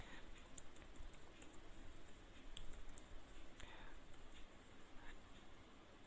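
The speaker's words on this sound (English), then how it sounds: "I will type the invigilator password." A password is typed on a computer keyboard during an IT exam: faint, soft key clicks tap irregularly over a steady low background hiss.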